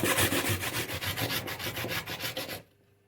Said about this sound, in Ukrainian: Натремо треба дрібненьку терпочку.